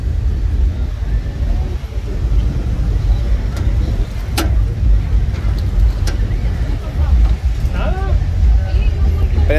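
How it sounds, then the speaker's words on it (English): A 1987 lowrider car's engine idles steadily and close by on a busy boulevard, its low rumble mixed with passing traffic and voices talking throughout. "You guys gonna see the motor now."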